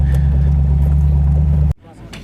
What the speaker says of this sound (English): Now the pleasure wagon is being taken for a drive, even though it's towing a BX